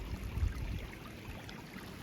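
Creek swollen after heavy rain in an orchard, water rushing in a steady broadband wash with a low rumble, continuous and fairly close.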